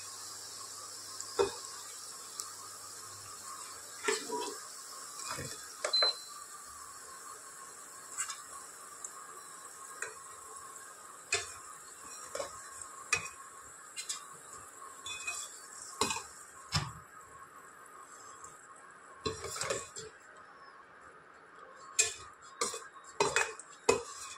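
A spatula scrapes and clinks against a pan as fried potatoes are lifted out of hot oil, over a faint sizzle. The sound is quiet overall, broken by sharp metallic taps at irregular moments.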